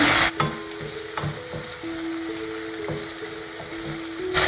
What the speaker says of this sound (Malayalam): എന്നിട്ട് ഇതിനൊന്ന് ജസ്റ്റ് നമുക്ക് ഫ്രൈ ആവാൻ വെക്കാം